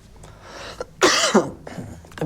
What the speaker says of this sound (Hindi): तो बार बार आपको क्लास में खांसना पड़ रहा है